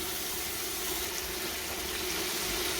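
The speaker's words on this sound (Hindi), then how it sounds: "ये इसके अंदर थोड़ा सा हम हाफ कप पानी डालेंगे और इसको कवर कर देंगे।" Half a cup of water pours steadily into a covered pot of bhindi masala with keema, a continuous close splashing hiss with no pauses and no talk.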